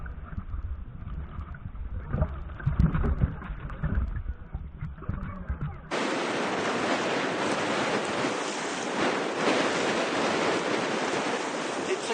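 Steady rushing wash of small lake waves and wind around 20 mph, loud and continuous, with a rougher, muffled stretch in the first half.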